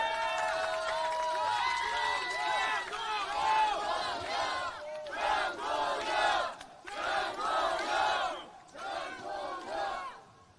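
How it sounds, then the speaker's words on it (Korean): A large crowd at an outdoor political rally in Korea roars and cheers loudly and continuously, the massed voices swelling and dipping in waves with brief lulls between. "큰 박수로 모시겠습니다."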